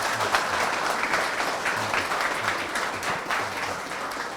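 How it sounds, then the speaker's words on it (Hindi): Office staff applaud for a visiting finance minister at an indoor gathering, a steady moderate clapping lasting throughout with no speech over it. "ताली नहीं बजाएंगे?"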